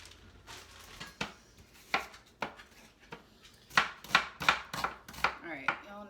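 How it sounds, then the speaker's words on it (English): A knife chopping onions on a cutting board, a run of sharp, close knocks, sparse and uneven at first, then quicker and louder in a steady burst near the end. "y'all know how much I love chopping onions"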